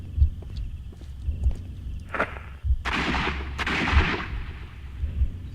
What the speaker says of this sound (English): 2 shots.